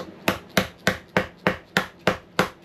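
Hammer blows on a block of wood during boat deck work, eight sharp knocks in a steady rhythm about a third of a second apart, close and loud with no voices.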